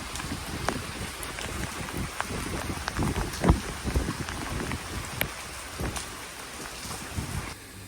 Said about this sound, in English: It is pissing with rain though.